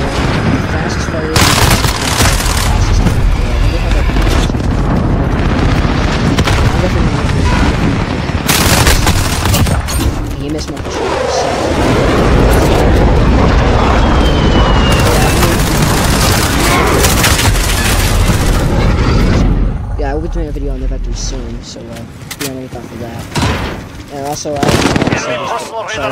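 Gunfire and explosions from Call of Duty Modern Warfare on the Scrapyard map, a loud, near-constant barrage of shots and booms running through most of the stretch, easing near the end, with a voice talking over it.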